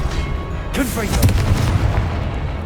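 A Confringo spell in Hogwarts Legacy bursts with a sharp booming explosion partway through, followed by crackling debris amid combat effects and a spoken voice.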